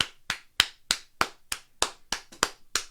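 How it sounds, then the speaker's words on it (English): A single person claps slowly and sharply near the microphone at a wrestling preshow, about ten crisp, evenly spaced hand claps with silence between each. "I'm going to clap for that"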